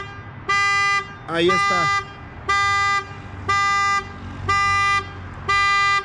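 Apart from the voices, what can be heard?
car horn honking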